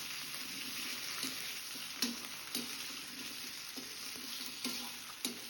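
Cubed potatoes fry steadily in hot oil, a continuous bright sizzle with a few soft clinks of a utensil against the pan.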